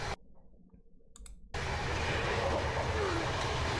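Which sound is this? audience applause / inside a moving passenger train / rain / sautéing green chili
inside a moving passenger train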